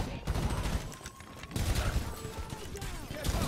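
Gunfire in a heist video game with rapid, overlapping bursts of shots and mechanical clatter at moderate loudness, with occasional voices partly under it.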